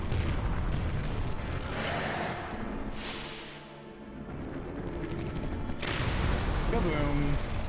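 The Salamander fire element in the video game Chrono Cross sets off a fiery explosion, booming rumbles swelling and fading over several seconds beneath a talking voice.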